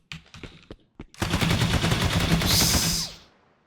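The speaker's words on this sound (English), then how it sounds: "We'll see whether the character is moving or not while the enemy is shooting." Enemy AI gunfire in an Unreal Engine 5 third-person shooter: a few scattered single shots, then a sustained loud stream of rapid automatic fire lasting about two seconds before cutting off.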